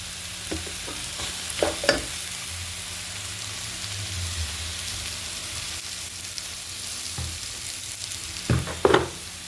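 Onions cooked soft sizzle quietly in a pan as salt is added, with a soft steady fry and a few louder scrapes and taps from a stirring spoon near the end.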